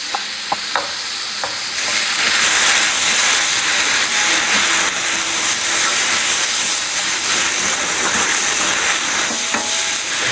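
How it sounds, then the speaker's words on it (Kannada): Pressure cooker of rice releasing a loud, sustained hissing whistle of steam after a few soft kitchen clinks, continuous and close. "ಸೊ ಇಲ್ಲಿ ಅನ್ನಕ್ಕೆ ವಿಸಿಲ್ ಹಾಕ್ತಾ ಇದೀನಿ ಇವಾಗ"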